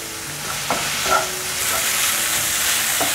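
Stir-frying in a wok with dark soy sauce, sugar and white pepper added: a steady broadband sizzle with a few scraping stir strokes of the spatula, close and continuous, with no talking.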